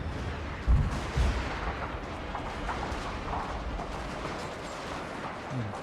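Riflemen open fire in a Shogun 2: Fall of the Samurai battle, with two sharp reports early on. A dense, rumbling roar of distant battle noise continues beneath them.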